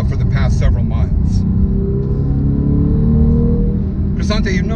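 A 2012 Porsche 991-series 911 holding second gear produces a loud, steady engine drone and low rumble, with voices talking over it at the start and end.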